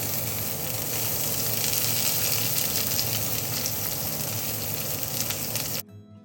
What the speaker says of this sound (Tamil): ஒரு அகலமான இரும்பு சட்டியில் தேங்காய் எண்ணெய் ஊற்றிட்டு பட்டை, கிராம்பு, ஏலக்காய் எல்லாத்தையுமே கொஞ்சம் அந்த ஃப்ளேவர் போகிற வரைக்கும் நல்லா வதக்கி விட்டுக்கோங்க.